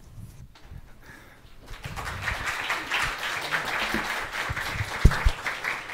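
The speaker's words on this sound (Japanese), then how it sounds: "拍手でお迎えしてくれれば感謝です。" A church youth group applauds to welcome their pastor, broad steady clapping rising after a quiet start and continuing with a few louder claps near the end.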